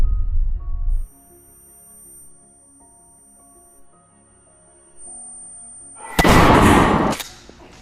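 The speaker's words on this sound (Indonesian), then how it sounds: "FBI melempar granat ke arah mereka." A grenade thrown by the FBI explodes in a film scene, a loud, broad blast near the end after a quiet stretch of low tonal score, with a brief rumble at the start.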